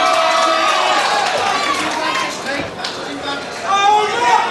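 A boxing crowd cheering and shouting during a fight, a loud, dense roar of many voices that dips midway and surges again, with a commentator talking over it.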